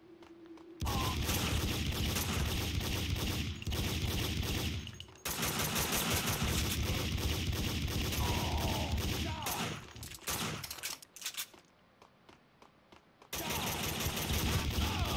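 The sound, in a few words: gunfire in Max Payne 2 video game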